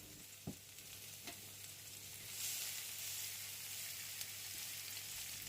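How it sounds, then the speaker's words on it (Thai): Steady sizzle of chopped garlic and bird's eye chilies frying in hot vegetable oil, a soft continuous hiss with a couple of small pops near the start. "น้ำมันร้อนใส่กระเทียมสับและพริกขี้หนูลงไปครับ"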